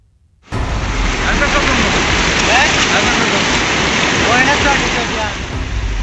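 Heavy monsoon rain pours down during a destructive downpour in Surat, India, a loud, dense roar that starts abruptly and holds steady before easing slightly at the end.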